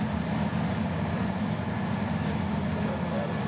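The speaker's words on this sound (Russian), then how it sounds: "Взлет самолета, турбины уже работают, и самолет Airbus A380 готовится к вылету." Jet engines of a model Airbus A380 run steadily before takeoff at a miniature airport, giving a constant, loud, dense roar with a low rumble and no pauses throughout.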